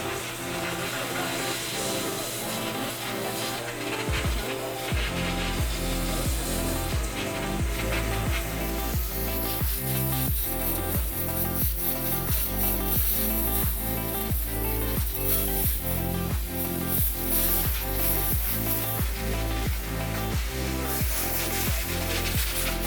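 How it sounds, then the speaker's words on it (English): Sand sprays from a squeezed blaster in an additive manufacturing foundry, producing a steady, loud hiss that runs continuously over a rhythmic mechanical background, with no voices. "The harder you squeeze, the more the sand will go everywhere"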